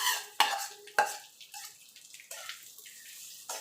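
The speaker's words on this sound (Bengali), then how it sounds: "চালটা দিয়ে মিনিট খানিক একটু তেলের সঙ্গে ঘিয়ের সঙ্গে ভেজে নেব" Rice grains tossed in hot oil and ghee for basanti pulao, with a couple of sharp metallic knocks of a spoon against the pot, then softer scraping and rustling as the grains are stirred.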